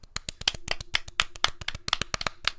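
A small group claps in a short, uneven round of applause, sharp hand slaps coming close and fairly loud for a few seconds with no voices over them.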